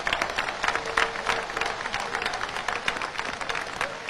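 A crowd at a Haitian Independence Day gathering with President Aristide claps in sustained applause, dense and fairly distant, with faint voices mixed in.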